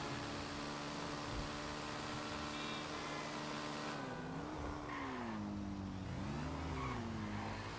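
Car in a video game driving with a steady engine drone, pitch wavering and sliding in the second half as tires squeal through turns, continuous and moderately loud.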